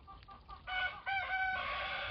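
Farmyard roosters crow in two or three overlapping calls, loud and close, one crow rising after another with no talking over them.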